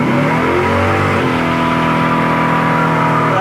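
A 1970 Oldsmobile Cutlass with a 455 engine revs hard while burning its tires, a loud, sustained close-up roar that climbs in pitch, then holds steady at a high throttle drone.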